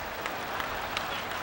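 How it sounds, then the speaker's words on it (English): Parents in a commencement crowd applaud at a Boston University graduation ceremony, a broad continuous patter of many hands with a few sharper claps standing out, close and full, without speech over it. "those are the parents applauding"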